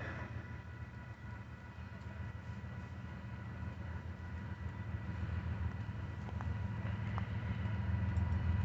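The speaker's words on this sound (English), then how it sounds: "Northbound BNSF track is right. Gates are going down. Northbound BNSF." A northbound BNSF freight train led by locomotives rumbles past a crossing, a steady low roar that grows slowly louder with faint higher clanks over it, and no voices.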